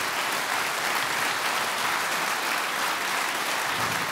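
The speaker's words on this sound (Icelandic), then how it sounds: "gefa þeim gott klapp hérna" An audience at a concert claps loudly and steadily for a band and singers, a dense, even wash of applause filling the whole stretch.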